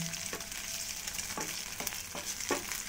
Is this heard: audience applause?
no